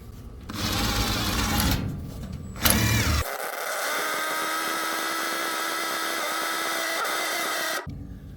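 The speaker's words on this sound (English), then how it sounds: "Now we can go ahead and drill it." A power drill with a worn-out bit whines in bursts, then grinds steadily at a high pitch for several seconds before cutting off, loud and close, drilling into a flatbed truck for a winch install.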